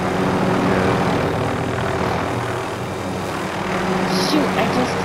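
A helicopter in a video game drones with a steady engine and rotor hum throughout, while players talk over it.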